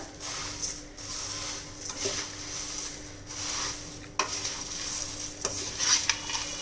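A spoon stirs and tosses spicy masala puffed rice in a bowl, giving a steady rustling, crunchy patter with occasional sharper scrapes and taps, close and continuous with no talking.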